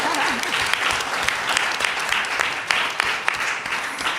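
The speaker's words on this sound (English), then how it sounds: "can you give yourselves an amazing round of applause" A conference audience claps steadily throughout as one broad, dense wash of applause, with voices faintly mixed in near the start.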